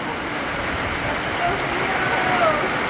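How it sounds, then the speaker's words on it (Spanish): Heavy downpour of rain on a farm in El Salvador, a steady dense roar of falling water without pauses, close and loud throughout, with faint voices mixed in. "Se me vino el chaparrazo de agua"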